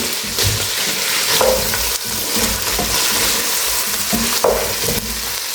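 Mushrooms go into vegetables frying for fried rice in a German kitchen, bringing a steady close sizzle with repeated scraping stirs of a spatula in the pan and no talk.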